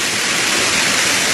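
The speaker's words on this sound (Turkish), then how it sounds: "Deregozir Balka arası, yukarı Balka ile Çaktar arası şelaleyi görüyorsunuz" Waterfall between Deregozir Balka and upper Balka near Çaktar, a steady, loud broadband roar of falling water filling the whole moment with no pauses or voices.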